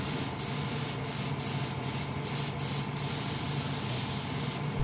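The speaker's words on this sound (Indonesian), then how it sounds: "Baru lapis 2 nya kita semprot tebal rata ke seluruh permukaan velg" An epoxy coat being spray painted onto a motorcycle wheel rim: a steady hiss runs throughout, broken by short repeated bursts of spray at an even rhythm, close up and with no voices.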